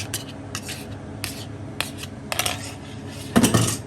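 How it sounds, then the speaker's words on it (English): Eggs go into a buttered frying pan at breakfast, with several light clinks and scrapes of pan and utensils and a louder clattering burst near the end; no one speaks. "Move our butter around in our pan. We're gonna drop these eggs in."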